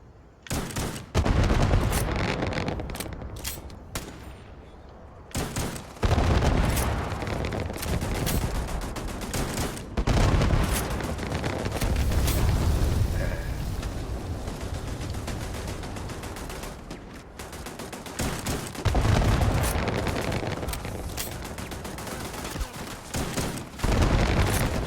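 Heavy incoming gunfire in the space game Starfield comes in repeated loud bursts of rapid shots and booms, broken by short lulls, sustained across the whole stretch without speech.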